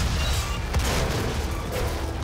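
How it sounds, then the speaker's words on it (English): A grenade blast in the 2016 Doom game on PC goes off amid steady combat noise of gunfire and booms, dense and loud throughout without a clear single isolated explosion. "Let's throw a grenade."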